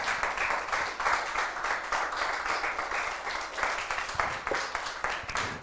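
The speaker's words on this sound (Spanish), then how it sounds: "Denle un aplauso al Espíritu Santo" A church congregation claps together in sustained, dense applause, heard from within the room at moderate volume, with no talking over it.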